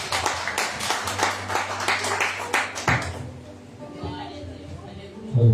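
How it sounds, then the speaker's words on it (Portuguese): A church congregation claps joyfully, many dense overlapping claps forming a steady roar of applause that fades after a few seconds, with a preacher's voice heard over the clapping. "Receba o servo do Senhor com palmas bem alegres para Jesus."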